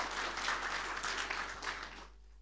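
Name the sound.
church congregation applauding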